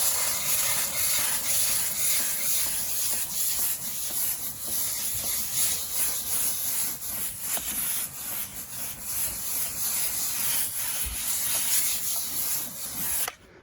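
A Harbor Freight 1500 watt steam cleaner, model 63042, hisses steadily while steaming a seat, with a close, constant spray and faint rubbing over the surface throughout.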